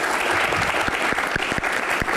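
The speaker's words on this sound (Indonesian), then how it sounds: "tepuk tangan buat bapak-bapak bertiga" Studio audience on a talk show applauding three guests, a steady close wash of clapping with a few sharper individual claps standing out.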